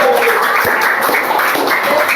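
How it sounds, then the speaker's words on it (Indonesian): A class of students claps together, a dense, even patter of hands that stays loud and steady throughout with no pauses. "Give applause dong, tepuk tangan dulu."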